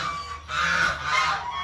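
Live chickens kept for sale at a farm give a short burst of loud, close fowl calls lasting under two seconds, with no talking.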